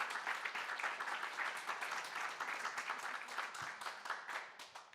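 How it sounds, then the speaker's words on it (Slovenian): An audience at a mayoral candidates' debate in Velenja keeps up a steady round of applause, with individual claps distinctly audible, fairly quiet and without talk. "hvala za aplavz"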